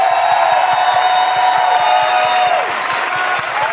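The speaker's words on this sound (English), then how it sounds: "So please give a round of applause for Paula Shogard." Crowd applause and cheering ring out at the Miss Universe 2022 preliminary competition, a continuous roar with a bright sustained music tone over it and rhythmic low beats underneath.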